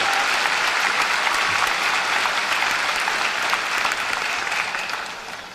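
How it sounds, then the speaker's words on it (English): Dense, loud applause from a high school graduation audience, continuous throughout and tapering slightly at the end. "give him a round of applause for this exceptional opportunity"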